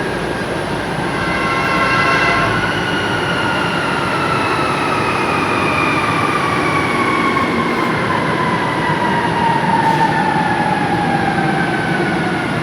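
An MRT metro train runs steadily with a loud continuous rumble and rising, gliding whine of motors, close by and filling the whole stretch.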